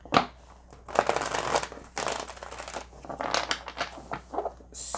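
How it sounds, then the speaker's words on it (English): Tarot cards being shuffled by hand in steady, close papery riffles and slides that run almost continuously, with brief pauses, and no talk over them. "I am going to shuffle out the cards and put them all face down"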